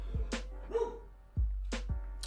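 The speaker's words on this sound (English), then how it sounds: "My dog is going crazy." A dog barks indoors: a few sharp, close barks in two pairs with a short whimpering yip between them, over a low steady hum.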